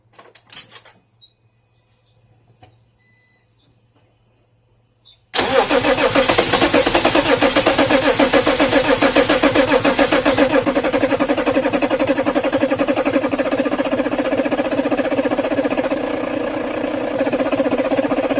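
A freshly installed BMW M57 diesel engine on its first start: a few seconds of quiet with small clicks, then a sudden loud, continuous, dense mechanical roar of cranking and running that holds steady to the end.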